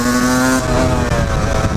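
Husqvarna 125 CR motorcycle, a motocross bike converted to supermoto, rides with a close, loud, buzzing engine tone that shifts pitch slightly as it pulls along.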